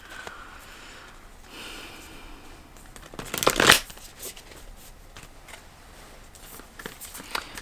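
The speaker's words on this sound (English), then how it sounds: "I'm going to pull more cards before I continue with that thought." Tarot cards being shuffled and pulled, a quiet rustle building to a brief, crisp riffle burst in the middle, then soft handling sounds and small taps afterward, close and alone.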